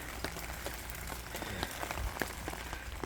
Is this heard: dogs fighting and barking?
no